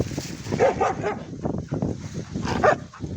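A small short-haired dog barks outdoors, heard as a couple of sharp, close yips over a busy background of other dogs and movement noise.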